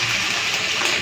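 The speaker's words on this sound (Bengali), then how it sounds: "তেল গরম হয়ে গেছে, এখন কুঁদরিগুলো তেলের মধ্যে দিয়ে দেবো।" Ivy gourd (kundri) pieces hit hot oil in a pan with a loud, steady, bright hiss that holds evenly for about a second, close by and with no voices.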